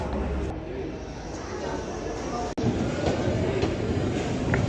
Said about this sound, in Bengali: ফাইনালি ট্রেন চলে আসছে।